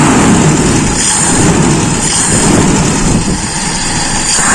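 A carbureted Toyota Kijang engine is revved up a little, producing a loud, dense, close-up roar that stays steady and unbroken throughout.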